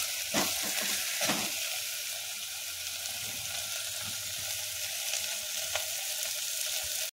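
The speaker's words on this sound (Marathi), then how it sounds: "हे अंडा आपलं कांद्याच्या पातीमध्ये चांगल्या प्रकारे मिक्स झालेलं आहे" Egg mixed with spring onions fries in a pan with a steady crackling sizzle, a few louder spatters and stirring scrapes near the start, heard up close with no talking.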